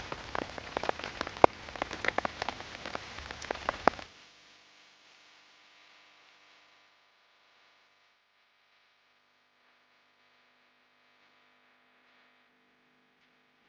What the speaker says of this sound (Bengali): এই আমাদের বৃষ্টি নেমে গেল